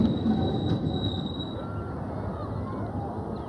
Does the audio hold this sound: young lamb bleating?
no